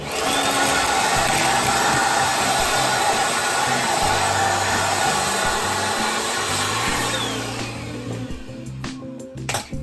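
A tiny 1.5 gallon shop vac runs steadily as a loud, broadband whine and roar close up, then eases off and sputters near the end, with no talk over it.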